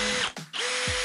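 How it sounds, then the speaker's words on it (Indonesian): A repaired Dongcheng power drill whines loudly at full speed, cuts out briefly and winds back up to a steady high-pitched motor drone. "Mesin bor ini sudah bisa beroperasi sebagaimana"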